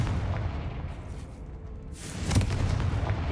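A Confringo fire spell explodes in Hogwarts Legacy, a broad booming burst that swells about two seconds in and rumbles loudly to the end over a low background din.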